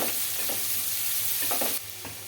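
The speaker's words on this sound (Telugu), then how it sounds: "అయితే కొద్దిగా కలర్ వచ్చే వరకు అయితే వేయించుకోవాలండి" Chopped ingredients frying in a pan for fish curry, a steady hiss with a few scraping stirs, close and alone without talk; the sizzle drops suddenly near the end.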